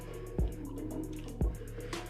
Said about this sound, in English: I gotta get some more water on this top too